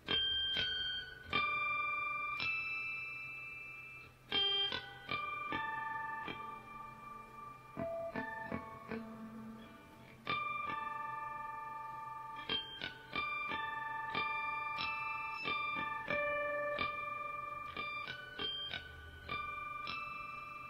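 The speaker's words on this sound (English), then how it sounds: "Titled harmonic chimes gives you a very interesting sound when you use harmonics on the guitar." Bright, bell-like guitar harmonics played through a chime effect ring out one after another, each chiming note sustaining and shimmering, played slowly and clearly with no voices.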